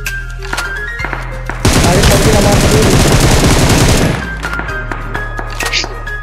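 Rapid automatic gunfire in the mobile battle royale game BGMI, a dense, loud burst lasting a few seconds with a few single shots around it, while players talk excitedly over the game sounds.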